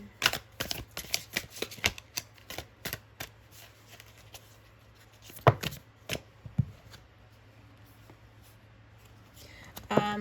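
Tarot cards are shuffled by hand in a series of sharp, close riffling snaps and taps, some in quick clusters and then spread out, with a faint background hum and no clear talk.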